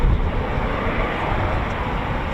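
A Eurofighter Typhoon FGR4 jet engine spools up at RAF Coningsby, a steady, dense roar that holds at an even, loud level throughout with no talking.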